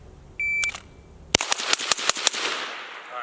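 Rifle fired rapidly at 25 yards in shooting training: a timer beep, then a quick string of about eight loud, sharp cracks in close succession, ringing out nearby.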